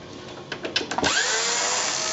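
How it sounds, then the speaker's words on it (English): An electric screwdriver whirs in short bursts, then runs steadily, removing screws from a Panasonic LCD projector's casing; close and loud, with no talking. "You need a long-handled screwdriver to get up in here."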